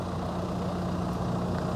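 A farm loader tractor, the kind used with forks to lift a box of pigs, idles steadily at close range, a continuous low diesel rumble with no change in pitch.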